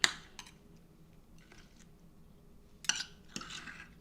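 Cutlery clicks and scrapes faintly against a plate while cutting into a chiffonade salad, a few sparse, sharp taps scattered across a quiet room.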